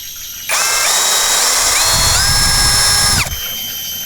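A Keelat KCD011 cordless drill spins up at its second speed setting, a loud steady motor whine with rising tones that holds for about three seconds before cutting off, with no talking.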